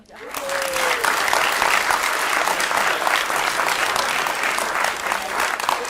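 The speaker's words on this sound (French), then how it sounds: "Donc on peut applaudir." Theatre audience at a festival performance breaks into sustained applause, a dense, even wash of clapping that swells quickly and holds steady for several seconds, with a brief voice near the start.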